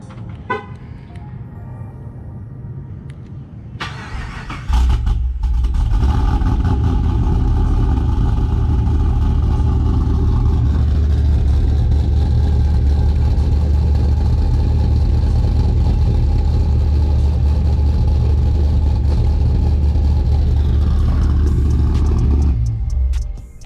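A tuned Pontiac G8 GT V8 with a Stage 2 build cranks after a brief quiet start. It then fires into a loud, rough, high-revving cold-start roar and settles into a deep, lumpy idle before cutting off.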